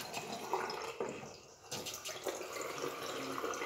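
Cold water running over a knife-sharpening stone used to prepare a shechita knife, a soft, close splashing trickle with brief drops and a short pause midway.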